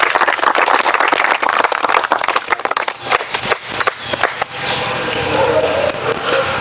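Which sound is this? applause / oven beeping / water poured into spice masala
applause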